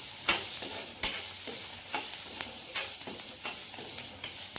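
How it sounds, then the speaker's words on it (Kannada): Ginger and garlic fry and get stirred in a pan for fenugreek rice, with a steady sizzle broken by sharp, regular scrapes of the spoon, close and moderately loud, with no talking. "ಇವಾಗ ಇದನ್ನೆಲ್ಲವನ್ನು ಚೆನ್ನಾಗಿ ಫ್ರೈ ಮಾಡ್ಕೋಬೇಕು."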